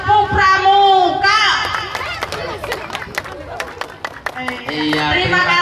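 Children doing the rhythmic Indonesian Scout clap at a 17 August Independence Day carnival, with a burst of sharp patterned hand claps among crowd chatter and kids' voices before and after.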